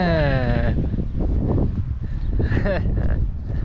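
A sheep on a small Turkish farm gives a clear, close bleat at the start, a second shorter bleat follows, and a person talks nearby throughout.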